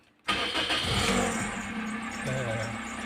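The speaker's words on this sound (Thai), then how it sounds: "ติดเครื่องนะครับ" A 2008 Toyota Altis engine cranks and fires after a brief silence, then settles into a steady close idle with a faint whine.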